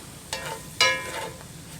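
Seasoned flour sprinkled into a sizzling pan of onions and peppers for smothered chicken gravy, two sharp bursts of hissing crackle over a steady low fry.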